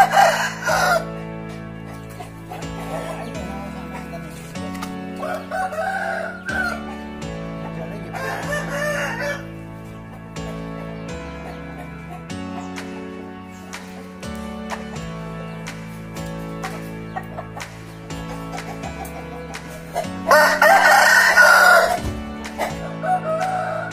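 A wangkas chicken rooster with a semi-rose comb crows loudly and close several times, each crow a long ringing call, between quieter stretches with background music.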